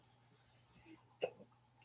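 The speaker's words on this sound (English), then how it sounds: "I got some bad hiccups." A single sharp hiccup from a man bursts out once against a quiet room background.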